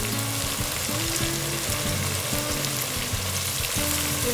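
Chopped tomatoes tossed into hot oil with fried onions for Muslim-style chicken biryani, giving a loud, continuous close-up sizzle and crackle, stirred in a pan with no voices over it.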